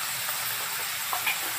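Mixed vegetables with turmeric fry in a pan, a steady close sizzle with faint stirring clicks.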